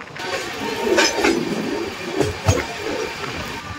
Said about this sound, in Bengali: দেখো, প্রায় ধরে ফেলেছি ট্রেন।